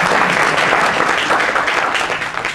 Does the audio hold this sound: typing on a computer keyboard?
no